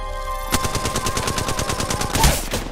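Rapid automatic gunfire in a video game rattles out as a loud, steady burst of closely spaced shots, near and continuous, with no talking over it.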